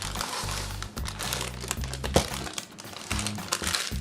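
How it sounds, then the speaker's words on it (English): Parchment paper handles crinkle and crumple as a pan of s'mores brownies is lifted out, several loud close rustling bursts with short pauses between them. "I'm going to use my little parchment handle"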